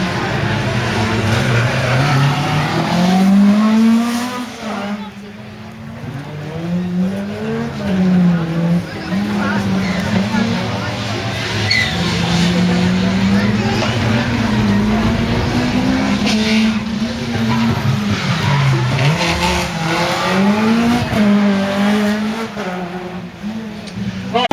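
Peugeot 206 rally car driving a stage at a rally event, its engine note rising and falling steadily and loudly throughout, with occasional tyre noise, while a commentator talks over it.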